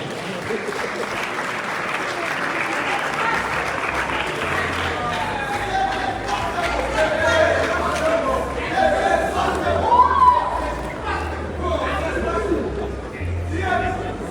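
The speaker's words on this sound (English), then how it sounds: "A round of applause for them." Audience applause at a Ghana Education Service and CTVET launch ceremony, a sustained crowd ovation with chatter and voices mixed in, swelling midway and continuing steadily throughout.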